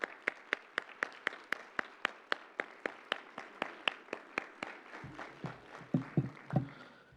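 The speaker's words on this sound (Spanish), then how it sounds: "les pido un fuerte aplauso igual para Sherry" An audience applauds a speaker at a human rights and migration event: fairly loud, evenly spaced claps that stay steady, then turn denser and more scattered near the end.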